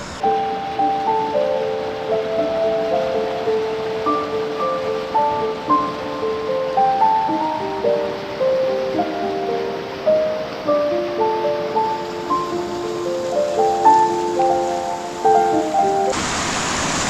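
Water of the Koel river in Jharkhand flows with a steady rushing hiss. It runs under gentle background music with plucked melodic notes, and the sound cuts off abruptly near the end.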